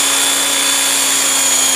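A remote-controlled Airwolf model helicopter hovers close by, its small motor and rotor giving a steady, loud high-pitched whine and whir that holds without a break.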